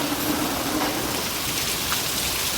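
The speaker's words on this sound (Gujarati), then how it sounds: "એટલો વરસાદ પડી ગયો" Heavy rain pours down steadily in a rural Gujarati village, a dense, even hiss of drops on surfaces filling the whole stretch with no letup and no voices.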